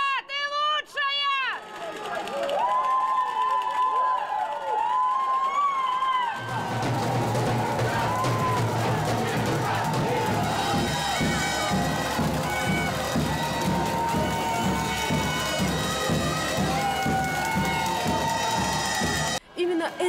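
Crowd of fans at an airport arrival cheering, shouting and whooping loudly, rising into sustained close noisy cheering with music-like tones behind it.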